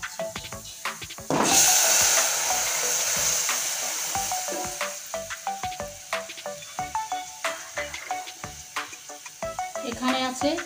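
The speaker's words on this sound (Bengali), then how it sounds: "এটা এখন ফোড়নে দিয়ে দিচ্ছি।" Gathi kochu (taro) curry drops into hot tempering oil with a sudden loud sizzle that keeps frying steadily, then stirring scrapes and clicks repeat rhythmically over the hiss.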